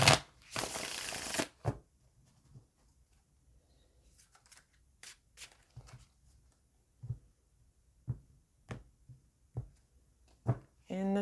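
Tarot cards being shuffled: a dense riffle at the start, then scattered light card taps and snaps spaced out over several seconds, close and fairly quiet.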